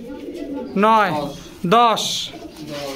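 Two loud, close pigeon coos in quick succession from a pigeon for sale at a market, with a brief high chirp after, over a background of people talking.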